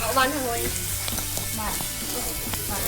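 Pork sizzling on a moo kratha grill pan, a loud, close, continuous frying crackle with small pops, with a voice briefly present underneath.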